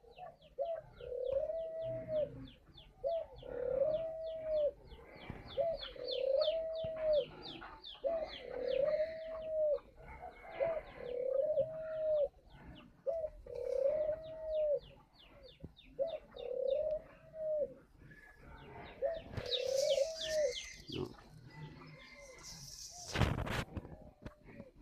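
Spotted doves coo in a repeated, regular phrase, about a dozen calls a couple of seconds apart at moderate distance, with some faint chirping in the background and a brief rustle near the end.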